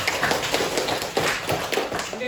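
Classroom applause for a student in a microteaching informatics lesson, a brief burst of scattered, uneven claps from a small group of students, fairly close.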